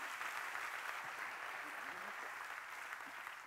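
A church congregation claps in a steady, distant wash of applause with a few faint voices cheering underneath, fairly quiet and continuous throughout.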